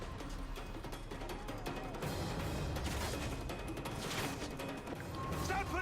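Game combat in Modern Warfare 3 with mortar fire from a rooftop position: dense, continuous crashing blasts and gunfire-like bursts layered throughout, loud and busy with no pauses.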